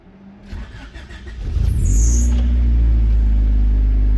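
Car engine starting after sitting unused for three or four weeks, on a rainy day: cranking builds over a second or so, then catches into a loud, steady idle rumble close by.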